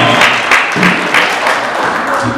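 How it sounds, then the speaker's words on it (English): Audience applause and cheering at a live show, a steady dense wash of clapping with brief swells, loud throughout with a few voices mixed in. "Round of applause if you know what 80-20 is."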